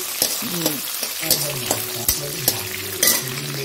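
Bitter gourd sizzles as it fries in a pan, with a utensil stirring and scraping at a steady, irregular rhythm. Close, continuous frying with clear metallic stirring hits.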